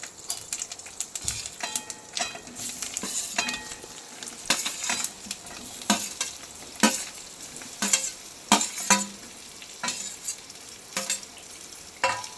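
Sliced alu vadi (colocasia leaf rolls) with sesame seeds stirred in a hot pan: repeated scraping clinks of a spoon against the pan over a steady sizzle, close and fairly loud, with no talking.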